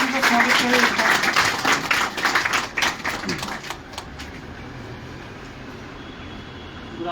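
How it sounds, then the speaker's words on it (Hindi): Students clap together to welcome a teacher at a Class 10 felicitation programme, a dense burst of applause that thins and fades after a few seconds. "तो तालियों के साथ उनका स्वागत करें।"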